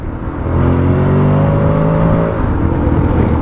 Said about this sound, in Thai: พอถอนเกียร์เนี่ยมันจะแบบเบิ้ลรอบให้สูงขึ้นนะ